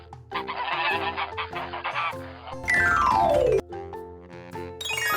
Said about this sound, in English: Chick sound is cheap, cheap.